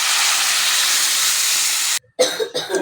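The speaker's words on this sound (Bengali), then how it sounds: "তো আমি জল দিয়ে দিচ্ছি।" Water poured into a hot frying pan while cooking gives a loud, broad sizzling hiss that holds steady, then cuts off abruptly, followed by brief bursts of spitting and crackling.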